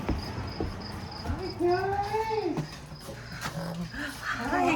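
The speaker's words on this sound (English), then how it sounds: "Can't wait to see the puppies." Dogs whimper and whine in greeting, rising, wavering cries while people talk excitedly nearby on arriving home, with scuffling and movement throughout.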